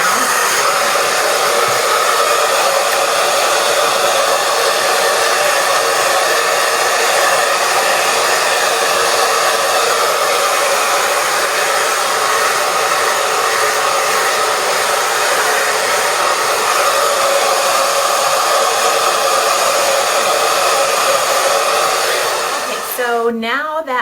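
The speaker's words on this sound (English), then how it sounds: "I'll use the cold blast button to give it a blast with the cold air" A hair dryer blows a steady, loud, close whoosh of cold air for the whole stretch, with a brief pitch change at the end as it is switched off or the setting changes.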